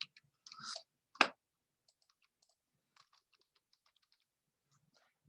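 Someone types a search into the Ancestry genealogy site on a computer keyboard: a couple of sharp key clicks, then faint scattered tapping in an otherwise quiet room.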